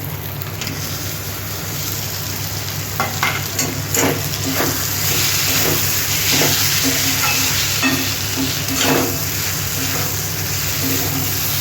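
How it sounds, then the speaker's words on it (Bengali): Egg bhujia frying in spiced oil in a pan gives a steady close sizzle, with repeated spatula stirring taps and scrapes throughout. "এবার আমি ডিমের ভুজিয়াটা দিয়ে দিচ্ছি"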